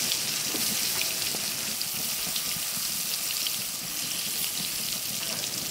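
Teasel gourd and pointed gourd pieces frying in a pan, giving a dense, even, rain-like hiss that stays steady and close throughout, with no voices.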